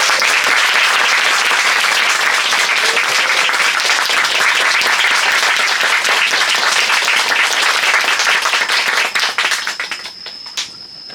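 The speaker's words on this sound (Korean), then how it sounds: "박수로 맞아주세요" Sustained, loud applause from an audience welcoming an author onstage at a book talk about the general Hong Beom-do, dense and steady for about nine seconds before thinning out near the end.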